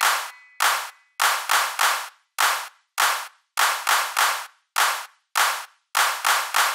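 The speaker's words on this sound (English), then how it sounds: "For the last one, just clap." Hands clap along to a nursery rhyme, a run of sharp, loud, close claps in a steady rhythmic pattern, some in quick pairs, with no voices.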